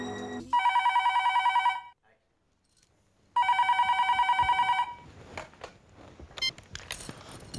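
An old-style telephone bell rings in two long trilling bursts separated by a short silence, loud and close, followed by handset clatter and movement noises.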